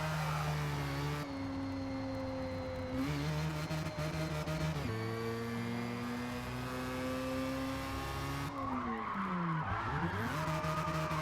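A car drifts in a racing video game, its engine droning in steady rising and falling pitch sweeps with continuous tire skid and squeal, loud and close, alone without any talk.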